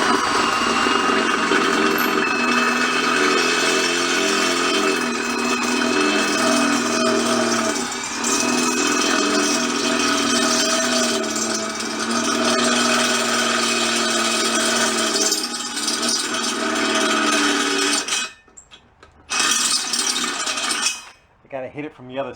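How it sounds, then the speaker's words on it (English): Step drill bit boring a hole through a junkyard tire rim for a Kubota tractor, a sustained close grinding whine with shifting tone that stops briefly twice near the end. "So you know what works better than the Bridgeport? A little stepper bit."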